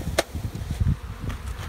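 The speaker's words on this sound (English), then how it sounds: "There's more bees in this one or something." Honeybees from a package being installed in a hive buzz faintly in a low hum, mixed with close scraping and tapping knocks.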